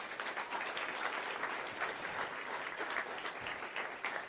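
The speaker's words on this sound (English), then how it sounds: "Would you give them a round of applause?" An audience at the University of North Georgia State of the University address applauds its senior leadership team with even, continuous clapping from many hands. The sound is fairly soft and sustained throughout.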